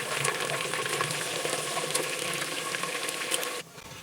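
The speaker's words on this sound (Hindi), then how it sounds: "तो हमें तेल में हम लोग आलू फ्राई करेंगे।" Potato pieces frying in oil for an aloo karela dish: a busy, crackling sizzle with fine popping runs steadily up close, then drops to a quieter hiss just before the end.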